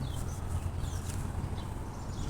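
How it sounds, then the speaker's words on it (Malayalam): Faint bird calls chirp in the distance over a steady low rumble, scattered brief whistles coming and going. "കിളികളുടെ ഒച്ചയും എല്ലാം"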